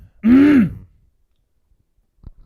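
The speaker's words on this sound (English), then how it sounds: "Sorry, I just had to clear my throat." A single short, voiced throat clearing, close and fairly loud, followed by quiet with a faint rustle.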